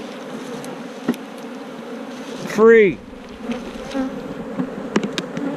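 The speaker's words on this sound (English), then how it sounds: "Those bees are getting mad." A colony of honeybees in a hive box gives off a low, steady buzz, with one louder, closer bee flying past partway through and a single brief word spoken.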